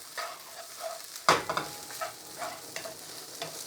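Egg fried rice tossed and stirred in a hot pan: soft sizzling under intermittent scrapes and spatula strokes, with one sharp metallic clatter as the rice is flipped, close and fairly quiet.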